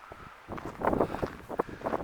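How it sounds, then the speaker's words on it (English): Wind buffets a microphone outdoors while walking on low ground, a gusty, moderately loud rumble that rises and falls in short surges, with no speech. "And the wind is a lot less."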